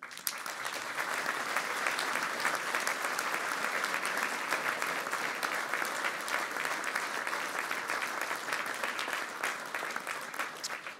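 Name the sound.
applause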